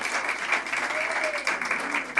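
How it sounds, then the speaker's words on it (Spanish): A church congregation applauds during a worship service, giving steady, moderately distant clapping that lasts for the whole short clip without pause. "Den un aplauso al Señor"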